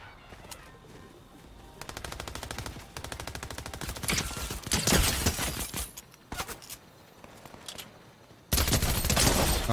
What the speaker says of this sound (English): Now all the bots are shooting at me.